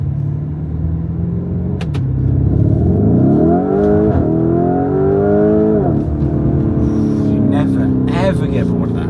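A sports car's engine in Corsa mode rumbles close, then climbs through two loud revving sweeps with a deep, rising drone before easing off, with a voice speaking over it.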